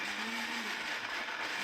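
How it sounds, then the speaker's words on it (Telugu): A mixer grinder blends coconut pieces with a glass of water, giving a continuous whirring drone that sounds muffled and somewhat distant, with no speech. "మూత పెట్టి ఇప్పుడు మిక్సీకి వేసుకున్నాం"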